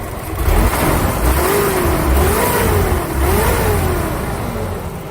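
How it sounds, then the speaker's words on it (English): A car engine undergoing a compression test revs up crisply twice as the throttle is snapped, each rise in pitch quickly falling back, loud and close with no talk. "Now I'm going to snap the throttle."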